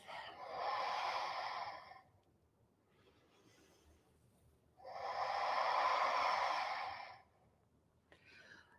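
Two long, audible exhalations through the nose and mouth during slow yoga movement, each lasting about two seconds, separated by a quiet gap, close and soft.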